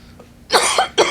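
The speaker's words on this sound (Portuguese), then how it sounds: "tossiu" Two loud, close coughs from a person, a short burst followed by a second after a brief pause, in a quiet indoor setting with low room hum and no talking.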